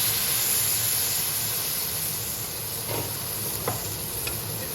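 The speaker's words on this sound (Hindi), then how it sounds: "ये अब इसमें टमाटर का पेस्ट डाल दें" Tomato paste goes into a hot pan for potato gravy, giving a steady loud sizzle and hiss with a couple of soft stirring knocks.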